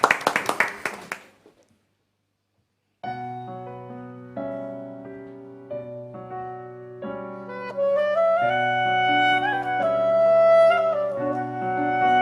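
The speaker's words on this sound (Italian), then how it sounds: "signore e signori, applauso" Short burst of audience applause for a singer at a Sicilian show, loud at first and dying away within about a second and a half, followed by a pause and then sustained musical tones.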